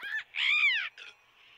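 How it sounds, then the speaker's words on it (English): A crow-like bird caws in a video game, loud and close: a short call, then a longer drawn-out caw, followed by fainter trailing notes. "Ah, bird."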